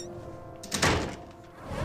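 A door thuds shut as someone walks out after calling goodbyes, a single muffled knock followed by a brief rumbling tail in a quiet room.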